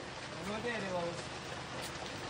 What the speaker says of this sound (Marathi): पण काय पाऊस काय जायचं नावच घेत नाही